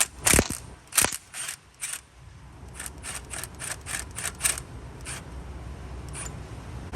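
A ratchet wrench loosens the belt adjuster bolt on a 1995-2004 Toyota Tacoma engine, giving two sharp clicks followed by a fast series of close ratcheting clicks over a low background hum.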